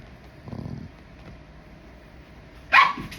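Three dogs scuffle, with low grumbling and rustling giving way to a sudden loud bark near the end, close by and without speech.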